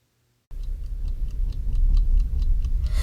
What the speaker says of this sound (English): The ticking of a timer filled the darkness around Gregory